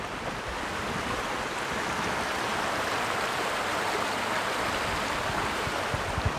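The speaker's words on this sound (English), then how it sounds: "I got to this creek here where I need to get water" Spotted Bear Creek in the Bob Marshall Wilderness flowing water, a steady broadband rushing wash, fairly faint and continuous with no voices.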